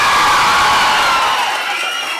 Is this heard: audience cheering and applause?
yes